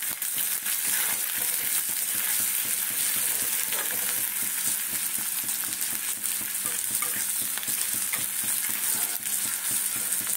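Chopped onion sizzling and frying in a hot pan on a gas stove, a steady loud crackle with scattered pops and spatters throughout, with no talking.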